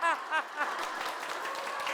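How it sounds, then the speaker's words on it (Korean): Audience at a televised lecture claps and laughs together on cue, with voiced laughter and a few clap bursts early, then steady mixed clapping and chuckling from a crowd throughout. "자, 박수 치면서 한번 웃어볼게요."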